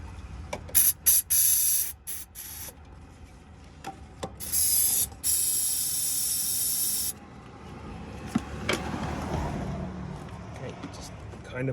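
Aerosol spray is squirted into a car's throttle body during a crank-but-no-start check, with several short hissing bursts and one long steady spray, followed by quieter handling noise.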